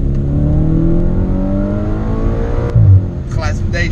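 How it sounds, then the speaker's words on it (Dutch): A naturally aspirated Audi RS5 engine drones and climbs in pitch as it revs, loud and close, with a deep burble near the end. "Het geluid van deze motor, jongens."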